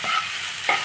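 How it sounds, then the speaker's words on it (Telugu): Ivy gourds (dondakaya) fry in a pan with a steady broadband sizzle, a stirring scrape near the start and another near the end, close and fairly loud. "ఈలోపు దొండకాయలు వేగుతూ ఉంటాయి"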